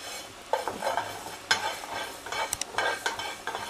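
Fenugreek and mustard seeds fry in a pan for onion pickle with a light sizzle, broken by intermittent stirring scrapes and a few crisp spoon taps.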